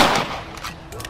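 A rifle shot cracks out in Red Dead Redemption, one loud burst at the start that decays into a quieter tail, with faint further reports afterwards.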